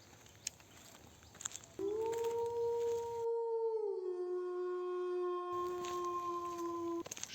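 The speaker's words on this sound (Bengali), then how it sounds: "দূরের কোনো কুকুরের চিৎকার" A single long, mournful dog howl rises and holds steady on a foggy night, starting faint and growing to a sustained wavering tone, with soft ambient noise around it and no voices.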